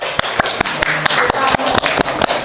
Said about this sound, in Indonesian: Bagus, oke, tepuk tangan.